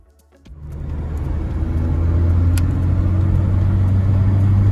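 Saab 900 Turbo with a boost fault pulling in third gear at full throttle, a steady loud engine drone rising from idle and holding strong, heard from inside the car.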